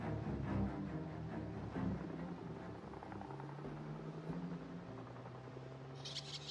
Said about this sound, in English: Am I hearing a helicopter?